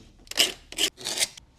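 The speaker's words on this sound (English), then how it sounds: "if you just grab yourself a file, you can just file it down" Metal file rasping melted plastic off a Sprinter van bumper, three short close scraping strokes separated by brief pauses, fairly quiet with no talk.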